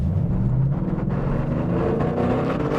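The V8 engine of a Ford Mustang Boss 302 revs hard in a low, rumbling, sustained roar that stays loud and close throughout.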